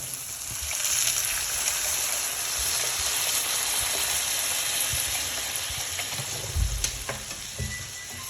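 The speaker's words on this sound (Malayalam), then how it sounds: "നമുക്ക് ആവശ്യമുള്ള വെള്ളം ഒഴിച്ചു കൊടുക്കാം" Water poured into a hot pan while cooking a tuna curry, giving a steady loud sizzle and bubbling hiss that runs throughout with brief louder bursts.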